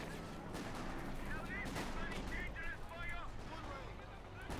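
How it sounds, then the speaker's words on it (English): Company of Heroes 2 battle sounds: steady gunfire and distant artillery rumbling under a continuous bed of combat noise, with someone commentator talking over it throughout. "Shots fired."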